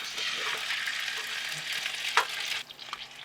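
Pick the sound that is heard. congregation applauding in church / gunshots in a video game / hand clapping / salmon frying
salmon frying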